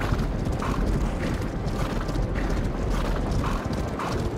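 Galloping horses in the Rival Stars Horse Racing video game, a rapid rhythmic drumming of hooves with a mechanical clatter, steady and close without pause.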